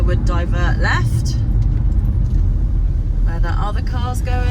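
Steady low road rumble from inside a car driving home from work, continuous and fairly loud throughout, with a person talking over it at the start and end.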